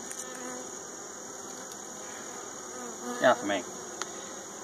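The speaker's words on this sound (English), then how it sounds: "That one bee that's on my thumb is a little suspicious." Honeybees buzz steadily at an open hive during a pre-winter colony check, a close continuous hum while someone speaks briefly near the end.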